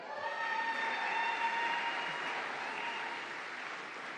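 A commencement audience claps steadily for graduating seniors, a broad even wash of applause that holds at a constant level throughout, heard from some distance in a large hall.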